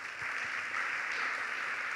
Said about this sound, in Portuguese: Esse é o Ivan, salva de palmas para ele